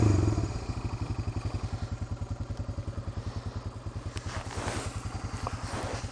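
A four-wheeler ATV idles on a mountain trail in the Ozarks, its engine putting out a fast, even, close thumping rhythm with some faint clatter over it.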